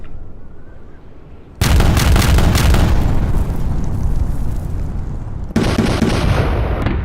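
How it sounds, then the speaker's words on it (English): Heavy cannon broadside from a 74-gun warship in a Napoleon Total War multiplayer naval battle, a sudden loud roaring burst of rapid overlapping booms that sustains for several seconds, then a second volley crashes in near the end. "Port with a big double broadside on the 74."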